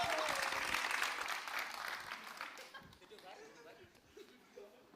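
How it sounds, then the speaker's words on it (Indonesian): An audience claps in a burst of applause that starts full and thins out over a few seconds, fading to scattered claps in a quiet room. "Kasih tepuk tangan buat mereka berdua."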